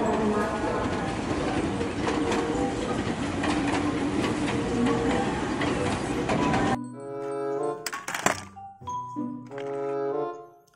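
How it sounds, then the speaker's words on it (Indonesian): A train rumbles loudly and steadily for several seconds, then cuts abruptly to quieter, tonal sounds with a voice. "Kereta api lokomotif lagi."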